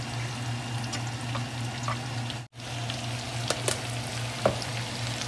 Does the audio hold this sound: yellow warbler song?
no